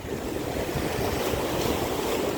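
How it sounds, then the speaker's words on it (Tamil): Rough open sea with strong wind, a steady broadband roar of surf and gusts buffeting the microphone, continuous and loud throughout with no voices. "சரியான காற்று கடல் தான் பாருங்கள் சரியான ரஃப்பு"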